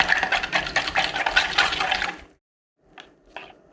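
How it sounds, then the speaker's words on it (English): Melt and pour soap is stirred with a chopstick, making a steady wet swishing and sloshing for about two seconds, then a short silence and two soft light taps. "I've used just a chopstick before, and you stir it like so."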